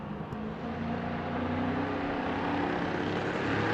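A supercharged big-block Wrangler wagon at a drag race, its engine a steady, loud, dense roar that holds and swells slightly from start to finish, with no voices over it.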